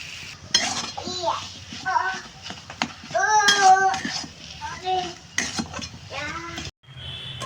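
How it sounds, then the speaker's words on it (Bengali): Dry fish paste (maan bata) being stirred in a cooking pan, with irregular metal scraping and clinks of a spoon against the pan, plus faint sizzling, while a voice chatters intermittently in the background. "এটা ভালো করে নাড়াচাড়া করে আমি এটাকে নামিয়ে নেব"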